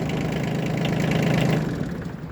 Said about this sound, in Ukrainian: Акумулятор трошки підсажений, але працює тракторет чітко.